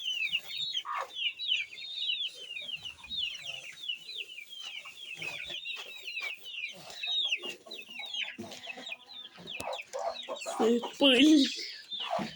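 Chickens cluck and chirp continuously, close by, with small chicks peeping throughout and a louder squawk near the end.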